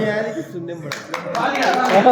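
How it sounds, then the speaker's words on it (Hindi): A classroom audience bursts into applause, with scattered clapping building over the final second while a voice speaks over it. "जोरदार तालियां, बहुत जबरदस्त जबरदस्त।"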